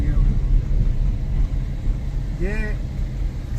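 A car engine labouring up a mountain road in low gear, a constant low rumble with road noise while someone speaks briefly over it.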